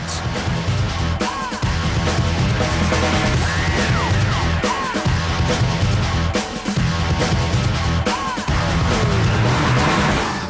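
A Mitsubishi Lancer Evo 7 driven hard, its engine droning loudly and continuously with brief drops between gear shifts and occasional tire squeal.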